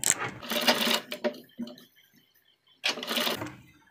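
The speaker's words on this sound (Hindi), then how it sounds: "यहाँ पर हमने एक कच्ची सिलाई यहाँ पर लगानी है" A sewing machine runs a basting seam on fabric in two bursts of rapid mechanical whirring, separated by a pause with a few faint clicks and brief rustles.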